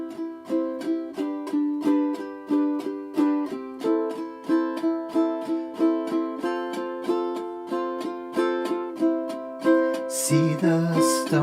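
Ukulele strummed with steady all-down strokes across the top strings, a bright, evenly paced chord rhythm with clear picked attacks, played alone and ending in a quicker flurry of strums.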